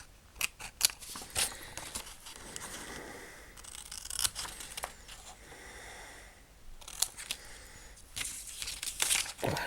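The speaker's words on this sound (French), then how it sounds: "Donc on va découper son ticket de bingo." Scissors snip through a paper Halloween bingo ticket in quiet close-up, with repeated crisp cuts and light paper rustling, clustered at the start and again near the end with softer handling between.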